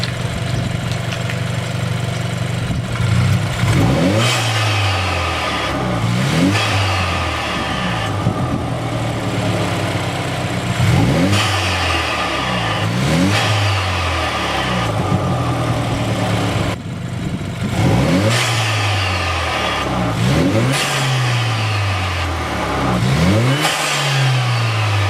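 A BMW F30 with an N26 engine and Injen aftermarket intake revs repeatedly in bursts, each rise followed by a drop, with a loud, throaty intake roar close by and no talking.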